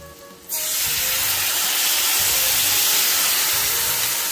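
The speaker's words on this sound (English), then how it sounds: "Carefully add some sherry wine." Sherry wine hitting a hot pan of mushrooms and butter with thyme, bursting into a loud, steady hiss and roar of steam that starts abruptly and holds strongly throughout.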